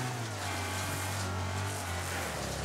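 A racing car's engine in the Wreckfest game drones loud and constant with a steady low hum and a rough, continuous roar throughout.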